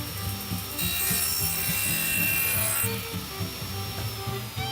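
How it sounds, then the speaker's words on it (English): A saw trims the angled ends of wooden pieces, giving a steady, close rasping cut with a repeating stroke rhythm and no talking. "Job number 1 at the saw is to create that angle where we marked it earlier."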